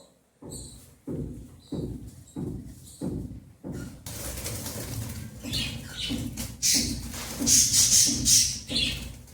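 Caged birds flap their wings in rhythmic bursts of fluttering, then a flurry of rustling and high chirps follows, close by.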